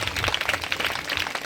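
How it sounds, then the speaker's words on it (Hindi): Steady applause from a congregation at a church welcome celebration, a dense, continuous patter of many hands clapping at close range with no pauses. "तालियां बजती रहनी चाहिए।"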